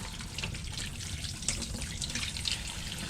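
Cool tap water runs steadily into a sink while red snapper throats are cleaned, a continuous close splashing trickle with small drips.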